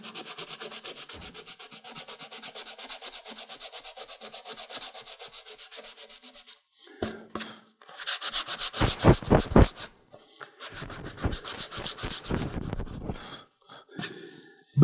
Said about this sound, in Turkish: Benim silgim budur, zımpara.